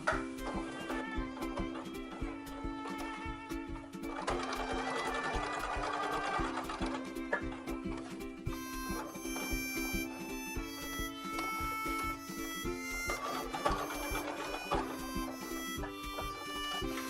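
A sewing machine stitches fabric for a homemade face mask, its rapid mechanical whir running close and steady throughout, shifting pace at moments as the seam goes on, with no talk.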